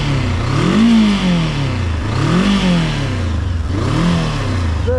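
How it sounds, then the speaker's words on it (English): A Voge DSX 525 motorcycle engine revs hard three times in a row, each pitch sweep rising and falling back, loud and close with steady mechanical rumble underneath and no talking. "Listen to the engine sound first."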